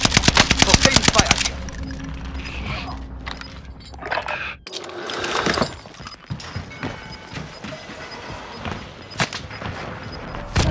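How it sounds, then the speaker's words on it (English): Sustained automatic gunfire in a battle-royale style shooter video game: a rapid, loud burst of shots up front, then scattered single shots, impacts and game effects continue at a distance. "Watch this. Sustained fire."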